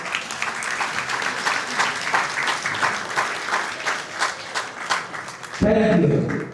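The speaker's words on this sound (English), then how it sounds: "how about a big hand of applause?" Crowd applause at a 250th Independence celebration in Long Island, USA, a steady wash of many hands clapping for several seconds before cutting off, with a voice briefly speaking near the end.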